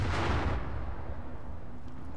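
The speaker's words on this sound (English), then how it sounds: "I really don't know what that explosion is. I keep hearing it." Distant explosions in the Far Cry 5 video game: a heavy, low boom that swells at once and then rolls away into a long, fading rumble, with no talk.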